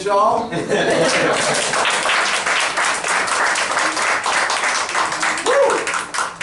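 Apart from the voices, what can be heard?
audience applause after a poem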